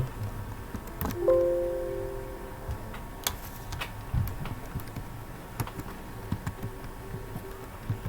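Fingers tapping out a name on a computer keyboard, a handful of light, sparse clicks over a quiet room hum, with a brief tonal beep early on.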